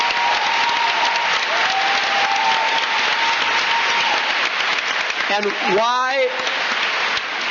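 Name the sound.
town hall audience applause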